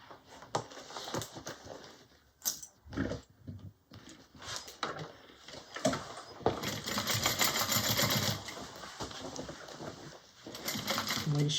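A sewing machine runs in bursts of stitching along a quarter-inch seam on a mini bowler bag, with short pauses between runs and a longer steady stretch near the end, close and clear.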